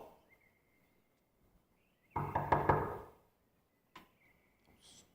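Several knocks on a door in a quiet room, a short cluster of loud raps followed by one lighter tap, with faint bird-like chirps in the background.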